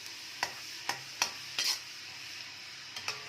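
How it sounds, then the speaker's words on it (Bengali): Prawn egg fried rice is stirred briskly in a hot pan: a steady soft sizzle runs under half a dozen sharp, close spatula scrapes spaced unevenly through the moment. "জাস্ট 30 সেকেন্ডের মতো ঝটঝট করে একটু নাড়তে হবে, যাতে জিনিসটা না পুড়ে যায়,"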